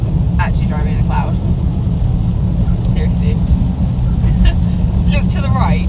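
A car drives along a road through thick cloud in Wales, with a loud, steady low rumble of engine and road noise throughout and voices talking over it inside the cabin.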